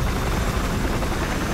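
Helicopter in a Battlefield Hardline multiplayer match on the Derailed map, a steady close rotor and engine roar filling the whole moment with dense, unbroken noise and no talk.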